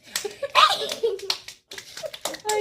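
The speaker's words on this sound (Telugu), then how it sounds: "Claps claps." Hands clap in short bursts during a family balloon-popping game, mixed with children's voices and lively talk nearby.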